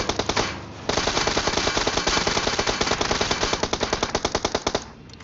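Rapid automatic gunfire at tanks in the video game PUBG Mobile, loud bursts of machine-gun shots rattling in quick succession with a brief pause near the start.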